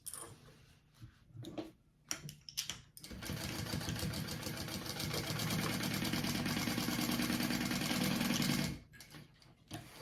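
A few light clicks come first, then a sewing machine runs in one steady, fast, whirring stretch as it stitches a zipper pocket on a sling bag. It stops abruptly near the end and a couple of soft clicks follow.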